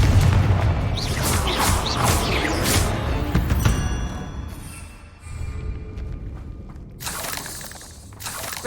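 The Confringo fire spell from Hogwarts Legacy bursts in a series of loud booming blasts with shattering debris, followed by a brief lull and then another sharp burst, all close and dominant.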